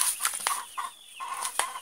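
Farm chickens gathered and waiting for corn feed cluck repeatedly and close by in short, uneven bursts, with no talking over them.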